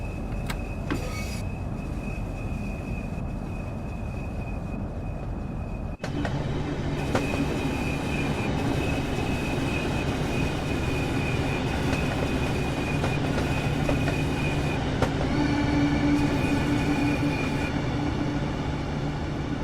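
A Class 395 electric train in Train Sim World 3 on the Margate to St Pancras route pulls at full power on overhead lines, a steady traction hum and rolling drone with a sudden shift partway and faint whining tones, no talk.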